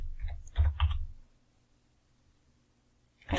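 Computer keyboard typing: a quick cluster of sharp clicks near the start, a quiet pause, then another keystroke at the end.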